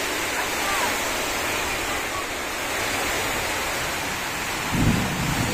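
Heavy rain pours steadily during a typhoon, a dense continuous roar with a low rumble of thunder rising briefly near the end.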